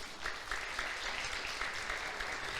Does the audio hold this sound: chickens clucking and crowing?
no